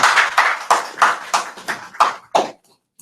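An audience claps in about eight regular, fairly loud bursts of applause that fade to silence at the end.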